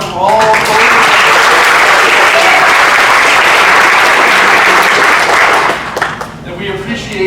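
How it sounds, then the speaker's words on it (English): Audience at a theatre awards ceremony breaks into loud, dense applause that holds strong for about six seconds before thinning out, with voices emerging as it fades. "give yourselves a round of applause for coming out from all over"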